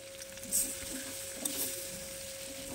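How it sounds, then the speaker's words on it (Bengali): Egg being scrambled and fried in a pan for fried rice, a steady soft sizzle with light stirring scrapes and a couple of brief louder clinks, no talk. "ডিমটা দিয়ে ঝুরি করে নেব"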